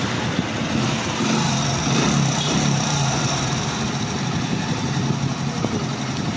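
A rebuilt vehicle engine, opened up after a crank noise, runs at a steady idle with a continuous low rumble. It stays at one level throughout with no talk over it.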